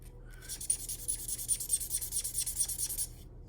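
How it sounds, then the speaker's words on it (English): A chisel-tip marker drags across paper in a steady run of scratchy strokes over about three seconds, each pass heard close and dry, with a faint rasp suggesting a drying tip. "I'm going to go ahead and just grab a chisel tip here and color with that"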